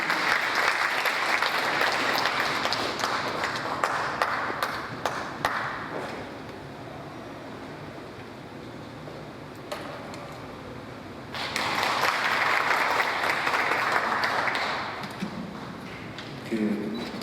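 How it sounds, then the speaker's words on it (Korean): Enthusiastic audience applause at a lecture hall swells, fades into a quieter stretch of room noise, then breaks out again in a second loud round of clapping. "큰 박수로 환영해 주시기 바랍니다."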